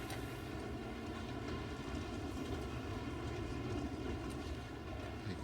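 A roller coaster train rolls along its track in Planet Coaster 2, ridden from the front seat, giving a steady, loud rumbling drone with a faint rhythmic clatter running throughout.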